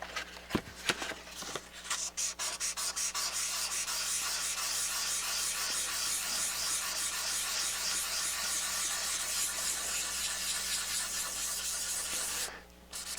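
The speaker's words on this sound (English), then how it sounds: "you start taking sandpaper to your lid of your vintage turntable" Sandpaper rubs steadily across the lid of a vintage Technics SL-7 turntable, a continuous close, loud scratching hiss after a few initial strokes, stopping near the end.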